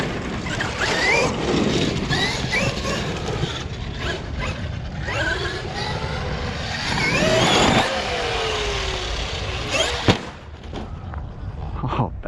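A battery-powered Traxxas XRT RC truck runs close by, its motor whining in rising and falling sweeps over gritty rumble, ending with a sharp thump and a quieter tail.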